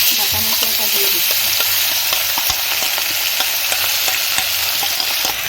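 Onions and bay leaves fry in refined oil for a chicken dish, giving a steady, loud, close sizzle with scattered crackles and occasional scrape-like ticks, continuous throughout with no voices.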